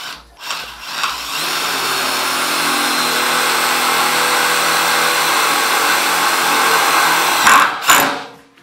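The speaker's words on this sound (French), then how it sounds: "Vissage d'abord, perçage plutôt, donc pas de choc. Et quand il est arrivé au filetage, là par contre ça a choqué." A Parkside 20V impact driver sends a screw into wood, whirring steadily and then rattling with impacts as it reaches the threads. It is loud and close, with a few taps before it starts and a sharp stop at the end.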